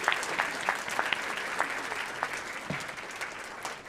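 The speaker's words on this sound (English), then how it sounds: "let's give everyone one more big round of applause" A round of applause for competition teams at a finals event, with a crowd clapping steadily and individual sharp claps standing out, moderately loud and continuous throughout.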